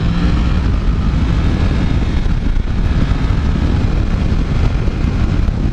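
A 2018 Yamaha MT-10 motorcycle on a demo ride gives off a loud, constant engine roar blended with rushing wind noise, heavy and unbroken throughout.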